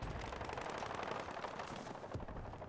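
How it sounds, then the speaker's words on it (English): Machine gun fire in Battlefield 6, a faint, distant rattle of rapid shots blending into a continuous rumble of battlefield noise, with no talk over it. "So either that's a machine gun or the tank. Yeah, that's a machine gun."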